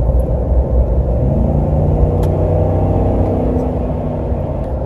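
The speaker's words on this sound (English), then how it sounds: "The truck still accelerates pretty good, and the engine does not feel underpowered for the truck." A 2017 Ford F250 STX FX4 pickup with a 6.2-litre gas engine accelerates onto an expressway, heard from inside as a loud, steady low rumble with engine tones slowly climbing in pitch.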